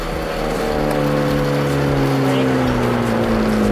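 Hyundai Genesis Coupe on a track accelerating out of a corner, a loud engine rising in pitch as it pulls hard, with a voice speaking over it.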